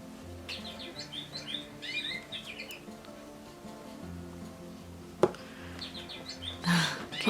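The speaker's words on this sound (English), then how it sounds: "Can you guys hear my bird clock and my cat?" Chirping from a bird clock indoors, repeated tweeting calls in short bursts at a moderate distance, with a sharp knock and a louder squawk-like call near the end over low background hum.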